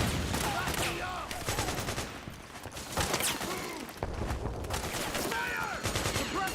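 Sustained gunfire from Metal Gear Solid 4: Guns of the Patriots on hard difficulty, with rapid automatic bursts and scattered shots layered into a dense, continuous firefight, while shouted voices break through in places.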